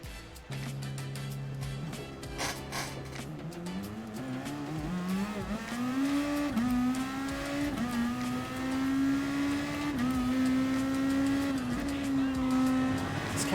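Race car engine in Gran Turismo Sport, driven at Suzuka, climbing through the revs and holding a loud, steady whine with shifts and faint tire noise, with a voice speaking over it.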